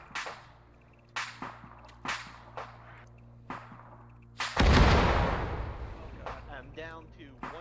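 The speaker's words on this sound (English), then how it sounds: "So this is a slower firing artillery" Slow-firing artillery in a military video game, a series of sharp whip-like cracks spaced a second or so apart, then one heavy booming blast that rolls out and decays, with faint voices underneath.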